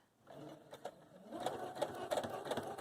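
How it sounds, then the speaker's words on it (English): A sewing machine stitches a seam on fabric for a scrunchie, running in short bursts at first and then steadily and fairly loud, close up with no talking. "And then we're just going to sew forward."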